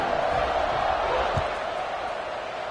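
Steady stadium crowd noise swells before kickoff in a college football video game between Alabama and Colorado, a broad constant roar with a single soft thud midway.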